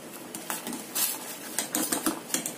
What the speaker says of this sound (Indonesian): Kita tutup sebentar ya. Kemudian kita aduk.